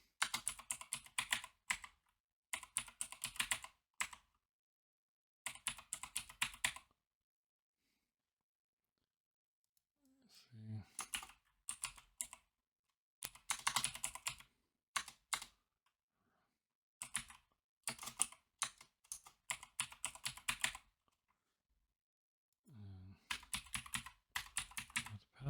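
Bursts of quick keystrokes on a computer keyboard come in close, clattering runs separated by quiet gaps, with a faint voice briefly in the background.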